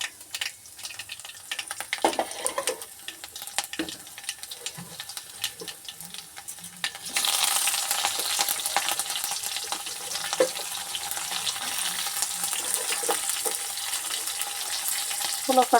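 Garlic, onions, dried red chillies and curry leaves frying in hot oil for a tempering, with a quieter stretch giving way after about seven seconds to a loud, steady sizzle with occasional stirring clinks.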